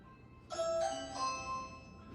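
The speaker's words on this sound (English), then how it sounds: "Let's ring this doorbell." A front-door doorbell rings with a ding-dong chime, a clear two-tone sound repeated twice at moderate volume, with faint background noise and no voices.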